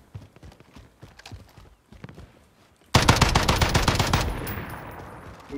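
Automatic gunfire in Call of Duty Warzone, a loud sustained burst of rapid shots cutting in midway after a stretch of quieter footsteps and scattered pops, then fading into a decaying tail.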